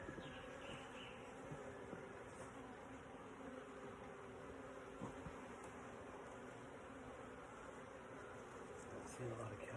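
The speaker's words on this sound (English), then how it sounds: "You can hear the hollow sound of them buzzing inside the hive." Bees buzz inside a log hive with a faint, hollow, continuous drone. The sound is low and muffled and holds steady throughout, with no talking.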